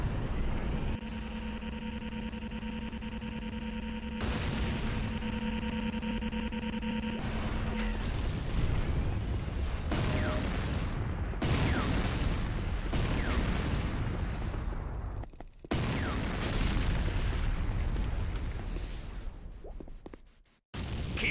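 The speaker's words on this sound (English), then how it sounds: "C4 is set. Fire in the hole!" Repeated booming blasts and heavy rumbling from a video game firefight after a C4 charge is set, the bursts loud and dense across the clip, with gunfire-like clatter layered between them.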